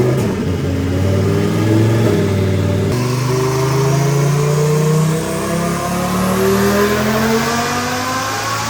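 A twin-turbo Lamborghini engine on a dyno revs hard and close, a loud sustained roar climbing steadily in pitch through the gears without pause.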